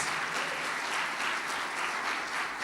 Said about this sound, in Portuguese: Uma salva de palmas para todos os papais.